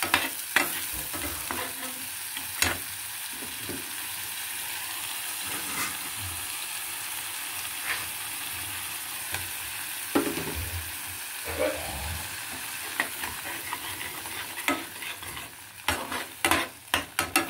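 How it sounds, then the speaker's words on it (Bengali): A spoon steadily stirs masala paste frying in oil in a pan for paneer Hyderabadi, giving a continuous close sizzle with repeated scraping and clinking strokes. "লাগাতার পেস্টটাকে এরকমভাবে নাড়িয়ে যেতে হবে।"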